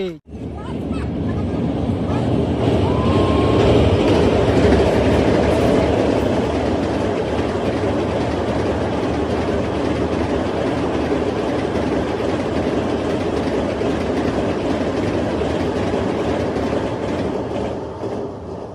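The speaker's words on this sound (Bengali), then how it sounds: "এখানে ট্রেন চলে গেল" A train rolls past close to a bridge over the Kopai river, a loud, steady rumble with rhythmic clickety-clack of wheels sustained for nearly the whole stretch before easing slightly at the end, with faint voices mixed in.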